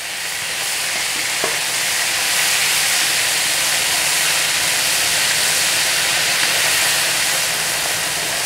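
Fish with cross-scored heads frying in hot oil gives a steady, broad sizzling hiss that holds evenly throughout, close and unbroken.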